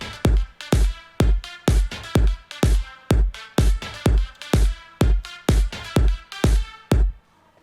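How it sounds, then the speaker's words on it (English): Punchy electronic percussion loop in FL Studio: a deep kick thumps on a steady four-on-the-floor pulse with sharp claps and bright percussive hits layered between, loud and dry. "together with the kick and clap, it sounds like this"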